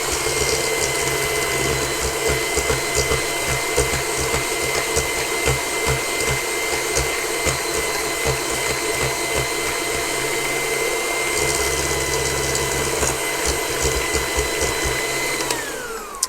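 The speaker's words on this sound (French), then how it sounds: "Donc on va faire blanchir les œufs du sucre." Electric mixer whisking eggs with sugar for an orange sponge cake, a loud steady motorized whir with rattling beaters lasting throughout, speeding up near the end before stopping abruptly, with no talk.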